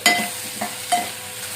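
Salted taro pieces being stirred into fried onions in a pan, with a few soft scraping strokes over a low sizzle, close by and alone.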